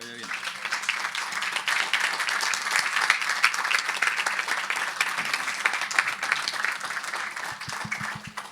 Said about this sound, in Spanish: Démosle la bienvenida con un cálido aplauso